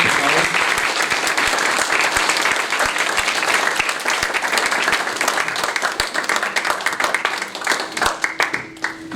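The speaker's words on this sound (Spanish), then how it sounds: "Un aplauso a nuestros invitados, por favor." A sustained round of audience applause fills a book presentation, dense clapping from a crowd rising loud and steady before thinning toward the end.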